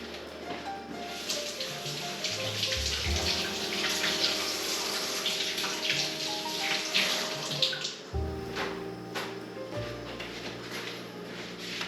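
Steady close rush of tap water running over lobsters being rinsed in a kitchen sink, continuous for the whole stretch with a brief shift in flow partway through.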